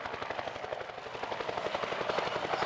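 A New Zealand Air Force No. 3 Squadron aircraft flies at the Warbirds over Wanaka airshow, producing a faint, distant, rapid rhythmic chopping that swells slightly in loudness as it continues.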